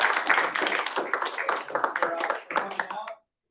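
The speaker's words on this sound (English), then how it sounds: "We give a big round of applause." Audience applause at a talk by a Make-A-Wish Foundation development director, a moderate burst of clapping from a smallish room with some voices mixed in, stopping abruptly.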